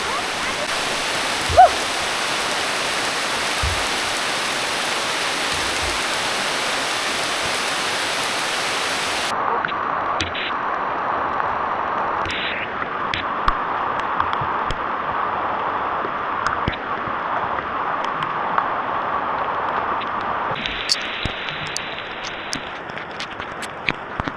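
Rushing water of the Tarangban and Bangon falls roars as a steady broadband wash close by, continuous throughout with small shifts in level.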